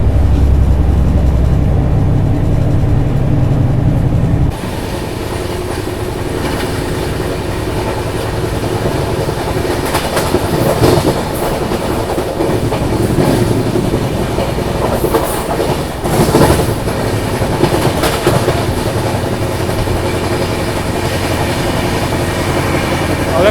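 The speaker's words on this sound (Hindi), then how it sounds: "अपना जो कोच है B9, इसमें से कुछ एक्स्ट्रा ही साउंड आ रहा है।" An older Humsafar express sleeper coach, B9, runs at speed with a loud, steady rumble and rhythmic clickety-clack from the wheels on the rails, plus occasional squeals and rattles. The sound is continuous and close, with no talking.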